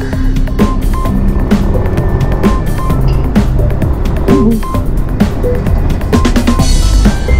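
Rush-hour highway traffic with motorcycles weaving between cars: a steady, loud wash of engine rumble and road noise, continuous and close throughout, with no talk.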